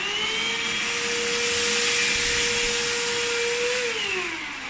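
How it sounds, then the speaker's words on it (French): A Proscenic P8 stick vacuum runs on its first speed while picking up rice, giving a loud, steady motor whine with an airy rushing hiss that drops slightly in pitch near the end. "on va prendre notre petit aspirateur balai. Hop, et on va mettre la première vitesse"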